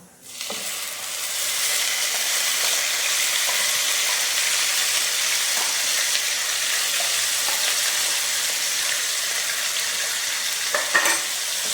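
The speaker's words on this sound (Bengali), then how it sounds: "গ্যাসটি লো ফ্লেমে দিয়ে এইভাবে আমাকে অনবরত নাড়তে হবে" A paste of green chili, garlic and coriander leaves fries on low flame while being stirred constantly, giving a steady loud sizzle with occasional scraping taps of the spoon, no voices.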